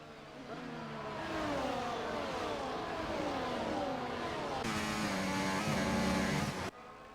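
Formula 1 race cars in the F1 24 game at the Austrian GP, engines screaming as they accelerate uphill with rising harmonic whine, one car close and loud, a commentator talking over them.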